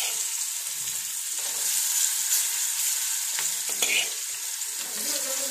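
Dried fish fries in oil with garlic, giving a close, continuous sizzle with bursts of crackle and occasional stirring scrapes.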